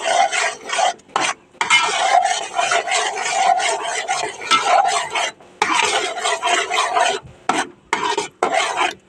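A spoon stirs papaya halwa in a pan, scraping and rasping in steady bursts with short pauses, close and fairly loud with no talking.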